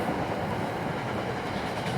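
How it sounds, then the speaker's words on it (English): A passing train gives a steady, dense rumble with a continuous rolling roar that holds at an even level for the whole stretch, with no voices over it. "I love the train noise."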